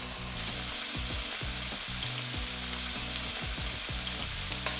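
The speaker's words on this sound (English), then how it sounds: "I'm going to let the butter melt. The cleaned prawns are all going in." Cleaned prawns frying in melted butter in a pan, a steady dense sizzle with crackling pops and occasional clinks of utensils, continuous and close with no voices.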